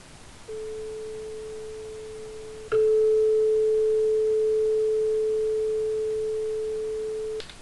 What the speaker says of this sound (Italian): Ricordiamo che il diapason ha una forma perfettamente sinusoidale.